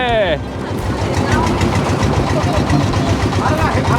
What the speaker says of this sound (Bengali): সামনে একটা বালির ছোট নৌকা যাচ্ছে